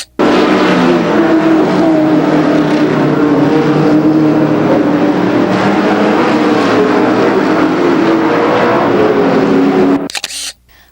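Race cars roaring around the oval at Raceway Park in a 1992 championship event, a loud, continuous engine drone with shifting pitch from cars battling for position, cutting off abruptly near the end.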